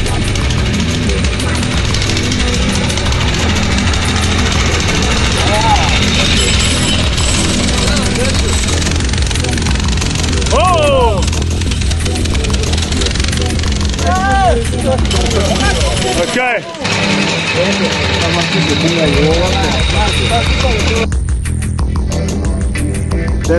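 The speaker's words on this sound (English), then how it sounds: "we are augering a hole into the ground where we're going to drop reinforcing in and then the concrete" A piling rig augers a hole into the ground at a construction site in Bluff, KwaZulu-Natal, with a loud, continuous engine drone and grinding throughout and someone talking over the machinery.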